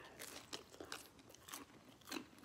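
Crunchy reheated pizza, warmed in a toaster, bitten and chewed up close: a series of sharp, crackly crunches spaced through the clip with no talking.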